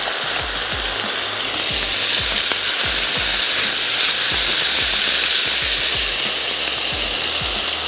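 Chicken coated in sauces spread into a hot pan sizzles loudly and steadily, a dense frying hiss with small pops and scrapes of stirring throughout, close up and with no one speaking.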